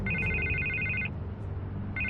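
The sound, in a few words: telephone ringing in the video game Batman: The Telltale Series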